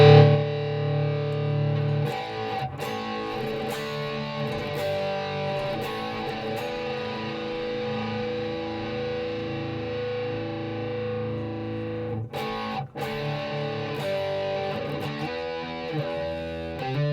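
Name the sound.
crunch distortion guitar tone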